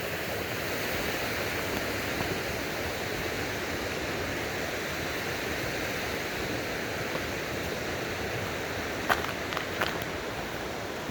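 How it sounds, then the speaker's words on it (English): A river running high with lots of water rushes below a hiking footbridge, a steady broadband roar with a few faint footstep-like taps near the end. "the river down there putting out a lot of water today"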